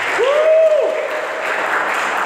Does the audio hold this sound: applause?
yes